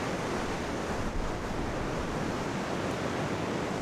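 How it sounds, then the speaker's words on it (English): Big ocean waves breaking on a beach at dawn, a steady, dense roar of surf with continuous wash and some wind, loud and close throughout without a break. "still some big old waves up there"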